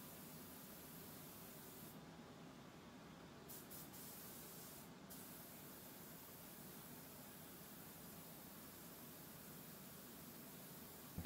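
A soft, steady hiss of a spray gun applying a primer coat to furniture continues evenly from start to end, with no talk.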